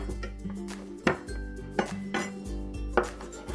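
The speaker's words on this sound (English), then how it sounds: "So I'm just mincing the garlic." A knife taps on a chopping board as garlic and ginger are minced for stir-fried cod, a few sharp, irregular knocks close by with no talk.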